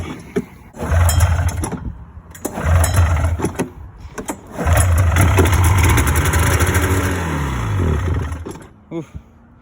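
A snowmobile engine struggling to start and refusing to rev: a few short cranking bursts, then a longer rough run that sputters and fades out, loud and close.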